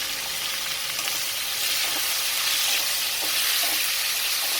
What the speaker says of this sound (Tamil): கொஞ்சமாக எண்ணெய் விட்டு எண்ணெய் காஞ்சிடுச்சு பிரண்டை போடுறோம் பிரண்டையோட பச்சை தன்மை முழுமையாக மாறுற அளவுக்கு வதக்கி எடுக்கணும்